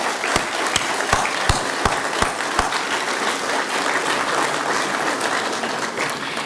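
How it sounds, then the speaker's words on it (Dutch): Audience at a mayor's New Year speech applauding emergency workers: steady crowd clapping at moderate level, with a few sharper, louder claps standing out near the start. "een applaus zouden willen geven"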